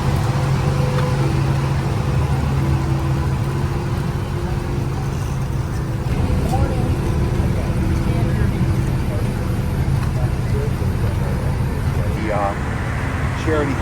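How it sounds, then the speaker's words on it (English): A truck engine runs loudly on a New Orleans street across from a cemetery, a steady low rumble filling the whole stretch beneath someone talking over it. "Truck engine's loud, but I'm louder."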